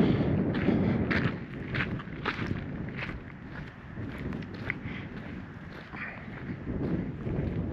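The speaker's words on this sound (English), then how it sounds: "Quite a lot of wind, so I hope you can hear what I'm saying." Strong wind gusting outdoors along the Orange River, buffeting the microphone with a loud, continuous rumble and rushing noise that rises and falls over several seconds.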